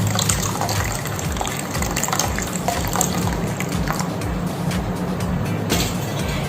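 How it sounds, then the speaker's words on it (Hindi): Water is poured into a container of coriander seeds for soaking, a steady, close gushing and filling sound that runs continuously and fairly loudly without pause. "अभी देखिए हम इसमें पानी ऐड कर देते हैं।"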